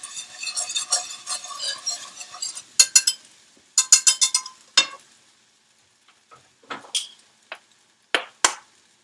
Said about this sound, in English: Keep stirring, keep stirring.